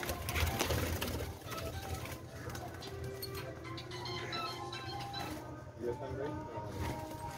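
Pet doves, including a pair of white doves, coo softly in a small backyard coop, low repeated coos under someone talking nearby, with faint ticking and rustling.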